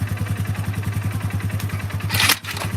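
Car engine revving hard at a drag race launch, with pulsing, rough exhaust throughout, alongside muscle cars like a Hellcat Redeye, Demon and C7 Z06 Corvette; loud and close, with a brief burst of hiss near the end.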